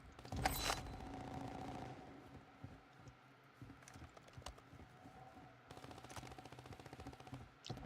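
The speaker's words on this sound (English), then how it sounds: "Is gunfire down by the street level?" Rapid bursts of video game gunfire rattle at a distance, with scattered cracks and faster clattering volleys rising and falling over several seconds.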